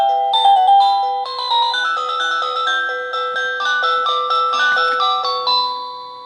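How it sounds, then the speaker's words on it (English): A VANBAR video doorbell chiming as it powers up after being plugged in, a loud, bright electronic melody of stepped tones playing continuously for about six seconds with no talking. "so when you plug it in, it makes some noise."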